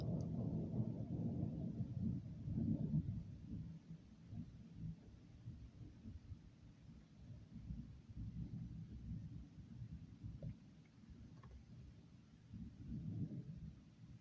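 Distant thunderstorm thunder rolls as a low, continuous rumble that swells at the start, eases off, then builds again near the end, with no voices.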